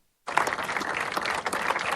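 Protesters outside an Italian immigration detention centre break into sustained applause after a brief silence, a dense, steady clapping from a group that carries on to the end.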